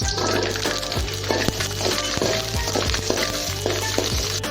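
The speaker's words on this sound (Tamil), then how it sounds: "இது நல்லா வதங்கணும்." About 100 grams of garlic sauté in a pan for pulicha keerai, making a soft, continuous sizzle broken by regular clinks and scrapes of stirring, heard close and at moderate volume.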